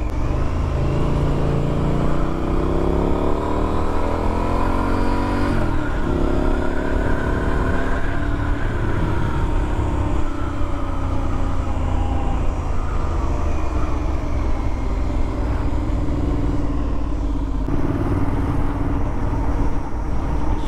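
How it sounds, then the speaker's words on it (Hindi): Triumph motorcycle rides along a road in Candolim, Goa, its engine note steady and close, rising and falling through gear changes with heavy wind rush throughout. "लेट्स सी अभी कैसी आवाज़ आती है बाइक के साथ।"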